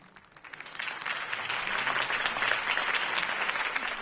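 Loud, sustained video game crowd applause at a political campaign speech, dense clapping that swells after a quieter start and holds steady throughout.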